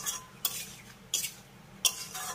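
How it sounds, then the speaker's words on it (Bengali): Snake gourd being stirred with salt and sugar in a pan over a medium-low gas flame: three distinct metallic scrapes of a spoon against the pan, spaced evenly, over a faint low sizzle. "এবার লবণ আর চিনির সঙ্গেও একবার ভালো করে মিশিয়ে নেব"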